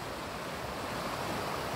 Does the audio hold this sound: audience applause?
no